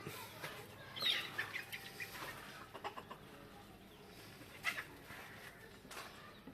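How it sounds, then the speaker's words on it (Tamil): A broody country hen sitting on eggs clucks softly in short scattered bursts, faint and nearby, with light rustling and quiet background noise. "நம்ம கோழி இதில் தான் அடை கிடக்கு"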